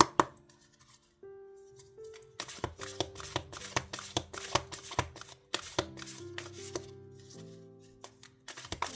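Oracle cards for a tarot reading are shuffled by hand in quick crisp taps and riffles, close and fairly soft over gentle background music.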